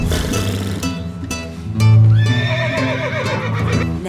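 A person voices a horse's breath during yoga, imitating a horse with a loud, fluttering, neigh-like whinny that rises and falls over a few seconds, close and alone.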